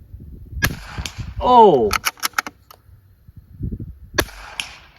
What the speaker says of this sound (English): And it's bolt gun, so it doesn't get any quieter than this once I throw a can on this.